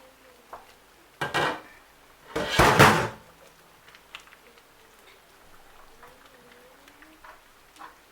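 A spoon clunks and scrapes inside a pot of white beans in two short bursts, the second longer and louder, followed by quiet with faint small clicks.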